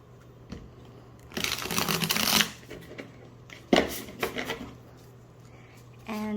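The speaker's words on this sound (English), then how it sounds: "I can get a decent shuffle with that" Tarot cards are riffled and shuffled in a few quick bursts of crisp flapping and snapping, close and clear, separated by short pauses over a low background hum.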